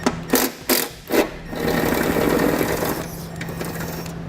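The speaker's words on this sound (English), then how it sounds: "I'll remove this 10mm nut." A 10mm nut being removed from a 2016 Chevrolet Traverse with a power tool, a few short loud whirring bursts followed by a sustained buzzing run that fades slightly, close to the listener, with no clear talking.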